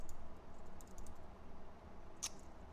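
Faint, steady typing on a computer keyboard: a soft, continuous patter of keystrokes with one sharper click near the end, quiet and close, with no talking.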